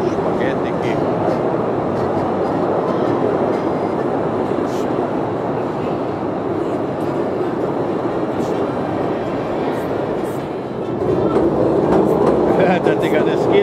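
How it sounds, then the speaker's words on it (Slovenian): A cave train rumbles steadily through Postojna Cave in Slovenia, a continuous loud rolling clatter of rail wagons throughout, with voices talking over it. "Z vlakom se vozimo."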